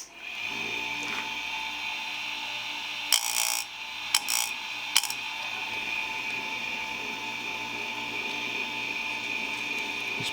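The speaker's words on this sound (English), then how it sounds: "we can turn the grinder on and get going." A Foley Belsaw 399 chain saw sharpener grinder runs with a steady, close electric whine and hum, broken around the middle by a few short metallic scrapes and clicks.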